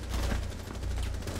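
Rainbow Six Siege gunfire rattles in a dense, continuous automatic burst, loud and steady across the whole moment, with no voices over it.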